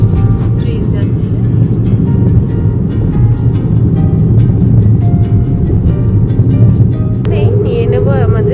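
A train passing alongside on the Kolaghat bridge, heard from inside a moving car: steady rumbling road and engine drone with rhythmic clatter throughout, then a brief higher whine near the end.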